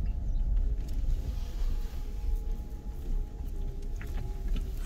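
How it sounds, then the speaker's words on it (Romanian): A Dacia Spring electric car drives off-road, giving a steady low background hum and rumble of motor and tyres at close range, with no speech. "e zgomotul ăsta de fundal al mașinii, care după o viteză nu se mai aude"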